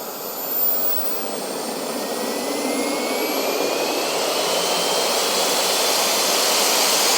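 A Kingtech K45G4 model jet turbine runs on a test bench, its loud, steady roar and high whine filling the space as the pitch slowly climbs under added throttle, with no voices.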